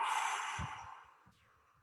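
During a guided breathing exercise, one long, breathy exhale through the mouth sounds close and clear, fades out, and is followed by quiet rustling.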